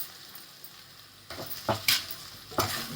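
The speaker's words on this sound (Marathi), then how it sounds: "हे तेलामध्ये असं हलवून घ्यायचं आणि शेंगदाण्याचा कूट पण टाकून घ्यायचा" Okra fried in oil with crushed peanut powder is stirred in a pan, a low sizzle broken by several sharp scraping strokes of a spoon against the metal, close and alone.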